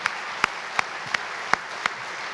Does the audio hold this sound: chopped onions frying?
no